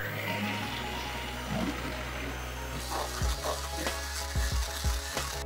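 Whipped cream powder and ice water are beaten together, a steady electric mixer hum with rattling, knocking bumps against the bowl.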